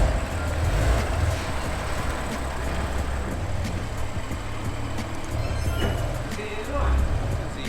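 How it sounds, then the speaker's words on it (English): A BMW M3 Touring is shifted into position in a garage. A low engine rumble with a few swelling pushes continues throughout, with faint background clatter. "let's move this M3 Touring over"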